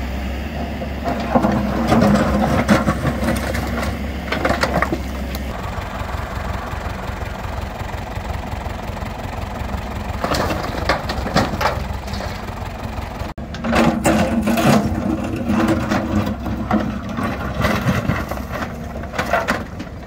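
Excavator engine running steadily while digging a trench for a cattle grid, loud and close, with scraping and clattering bursts of soil and stone as the bucket works; no talking.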